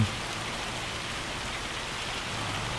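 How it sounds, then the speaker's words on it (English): Steady rain falls in an even, unbroken hiss in the video game Farming Simulator 25, with no voices. "Of course, it's raining."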